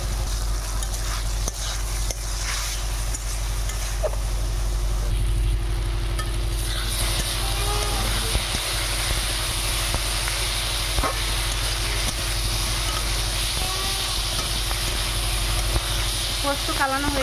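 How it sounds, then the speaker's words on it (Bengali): Poppy seed and green chili paste sizzles and fries in a pan, a loud continuous hiss with stirring scrapes throughout, close and steady, with some talk over it. "পোস্ত কাঁচা লঙ্কা বাটাটা দিয়ে দেবো।"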